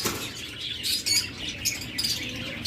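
Pet lovebirds chirp in quick, high tweets and short squawks close by, with soft rustling and wing flutters between the calls and no voices over them.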